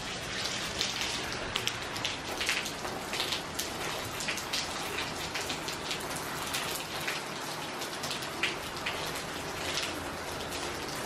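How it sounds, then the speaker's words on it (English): Steady rain falls outdoors, a dense wash of drops hitting surfaces with scattered louder patters, continuous and even with no voices over it. "It's raining outside."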